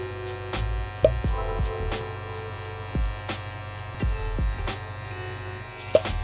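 Hair clippers fitted with a one guard and the lever open buzz steadily at close range, the even electric hum broken by a few brief clicks and strokes as they graze through curly hair.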